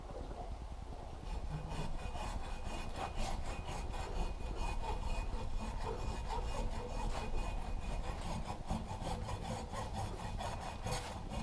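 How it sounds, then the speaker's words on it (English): Steady, continuous back-and-forth sawing close by while a 10 lb sledge hammer head is cut around for repair, rasping strokes running without pause throughout, with no talking. "take and saw this around and just slide it right off"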